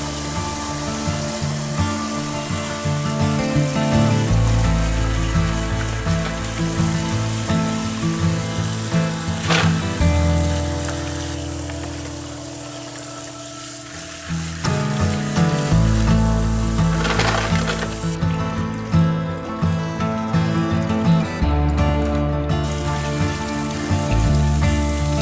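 Pumpkin seeds are rinsed in water to wash off pulp, producing a continuous splashing and trickling with the steady hiss of running water, briefly quieting midway before resuming just as strongly.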